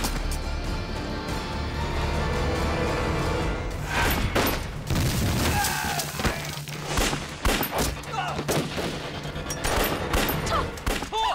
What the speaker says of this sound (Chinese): 听到枪声，我就跑过来了